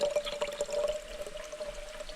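Water squeezed through a squeeze filter bottle on a thru-hike trail, a close, steady trickling stream with a faint liquid hiss that gently pulses and thins toward the end.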